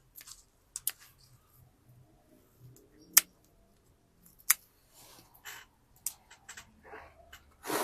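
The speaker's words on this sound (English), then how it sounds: "Just cutting these ones off totally." Scissors snip through Shimpaku juniper branches during bonsai size reduction, a scattering of sharp, close clicks and cuts spaced irregularly with quiet pauses between them.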